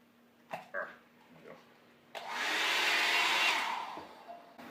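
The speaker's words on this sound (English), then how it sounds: "I'm now going to hair dry them off." A hair dryer blows on coffee-soaked computer keyboard keys, with a loud, steady rushing roar for about two seconds after a couple of brief thumps and a dog's short yips.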